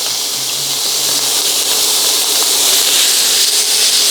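Onions hit a hot paella pan with little oil, setting off a loud, steady sizzling hiss that stays close and constant throughout, with faint clinks beneath.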